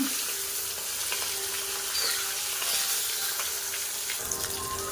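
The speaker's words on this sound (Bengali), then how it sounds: "মাছের ঝোল মাছ ভাজা করছি মাছের এক পিস ভাজা হয়ে গেছে এবার উল্টে দেব" Fish pieces frying in hot oil in a wok give a continuous, moderately loud sizzle with faint intermittent clinks, and no one speaks.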